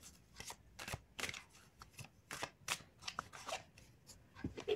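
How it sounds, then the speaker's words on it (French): Tarot cards are shuffled and drawn from a deck in a quiet room. Soft papery riffles and flicks come in quick irregular bursts, faint and close. "je vais tirer une troisième carte."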